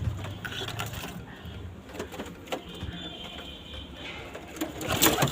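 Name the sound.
pigeons cooing in a home coop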